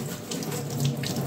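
Pumpkin leaves are rinsed under a running kitchen tap, a steady close splash of water with a faint rise in the middle and no talking.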